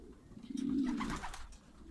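A breeder's domestic pigeons give one soft, throaty coo at a fort, faint and low against quiet background air.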